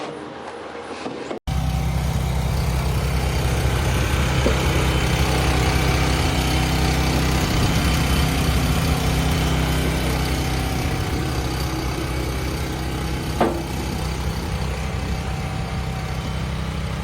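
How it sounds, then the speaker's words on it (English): A wood-cutting machine's engine idles with a steady low rumble, continuous and fairly close, after a short quieter moment at the start. "Its engine hums to life, exhaling thick white plumes that mix with the morning fog."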